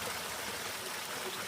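Fresh mountain stream water at the South Yuba River headwaters flows and trickles steadily, close and alone, a constant broadband wash with no speech.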